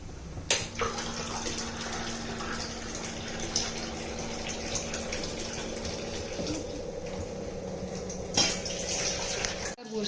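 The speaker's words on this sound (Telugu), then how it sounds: "పోసేయాలి రైస్కి తగ్గ వాటర్." Water is poured into a pot of plain rice for cooking in a home kitchen, a continuous splashing flow that carries on for several seconds, with a couple of louder knocks.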